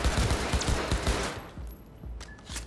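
Gunfire in the video game Cyberpunk 2077: a rapid string of sharp shots crackles loudly for about a second, then fades into quieter, scattered pops.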